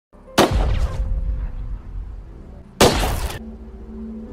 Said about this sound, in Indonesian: suara tembakan itu terdengar sangat jelas oleh Emma